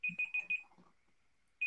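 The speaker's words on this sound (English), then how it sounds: "Oh, what is that timer?" A kitchen timer alarm beeps in quick repeated bursts, four sharp electronic tones in a row, then one more after a short gap, with soft indistinct talk between them.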